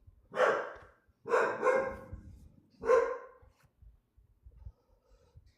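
A dog barks four times nearby, one single bark, then a quick pair, then another, with soft breathing in the quiet gaps.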